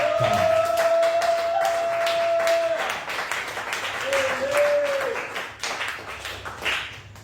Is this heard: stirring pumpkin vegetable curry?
no